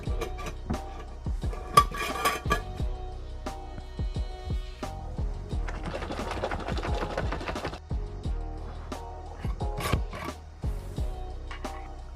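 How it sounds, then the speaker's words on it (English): Keto rocky road ice cream ingredients being mixed in a bowl, with repeated clinks, scrapes and rubbing strokes of a utensil, steady and close, with a denser stretch of stirring midway. "Now we're going to mix these ingredients first before we put in the marshmallow fluff and the chocolate syrup"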